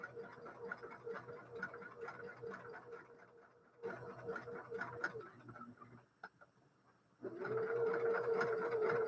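A Baby Lock Jazz sewing machine stitches in rapid mechanical bursts, pausing briefly twice before running again, louder and steadier at the end, with faint talk in the background.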